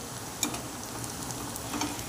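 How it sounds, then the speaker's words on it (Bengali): Chopped onion sizzles in a pan as it nears golden, a steady soft frying hiss with a couple of brief stirring clicks and no one speaking. "এই যে পেঁয়াজটা প্রায় ভাজা ভাজা হয়ে এসছে"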